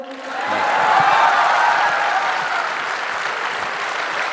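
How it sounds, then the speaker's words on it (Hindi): Audience applause at a large news summit event in India, a dense burst of clapping from a crowd that swells quickly, holds steady and continues loud to the end. "ताली बजाओ।"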